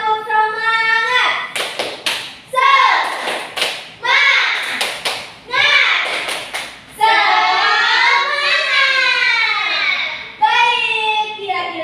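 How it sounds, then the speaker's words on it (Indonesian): A class of students clapping in a rhythmic spirit-clap pattern during a mathematics micro-teaching lesson, the claps arriving in quick groups with pauses, mixed with loud children's chanting voices throughout. "Tepuk semangat."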